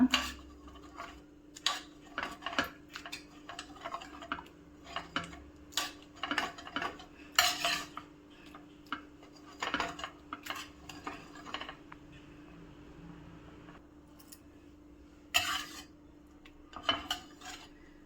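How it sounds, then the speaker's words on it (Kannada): Cooked lentils for Andhra-style pappu charu are mashed in a pot, with irregular soft taps and metallic clinks from the masher, close by and fairly quiet. "ಈ ಥರ ಒಂದು ಸ್ಮ್ಯಾಶರ್ ತಗೊಂಡು ಎಲ್ಲ ಸ್ಮ್ಯಾಶ್ ಮಾಡೋಣ."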